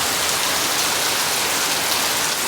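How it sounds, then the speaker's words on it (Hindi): Heavy rain pours down outside at night, a loud, dense, unbroken hiss of drops drumming on surfaces, steady and close with no voices. "रात के 8:30 बजे बाहर बहुत तेज़ बारिश लग रही है।"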